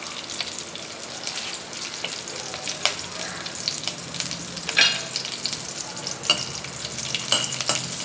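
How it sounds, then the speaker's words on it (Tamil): Curry leaves and asafoetida sizzle and crackle in hot oil in a pan, a steady broadband frying hiss with scattered sharp pops and spatters throughout, close and moderately loud, no talking. "கருவேப்பிலை கொஞ்சம் கிள்ளி போட்டுக்கலாம். பெருங்காயம் கொஞ்சம் போட்டுக்கோங்க."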